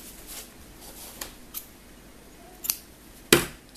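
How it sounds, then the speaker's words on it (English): Scissors snipping crochet yarn, a few small quiet clicks of the blades followed by one sharper, louder cut near the end, close to the microphone in a quiet room. "you can just bring up your yarn, cut your yarn"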